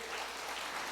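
Church congregation clapping in a dense, steady patter of many hands, a brief burst with no speech over it.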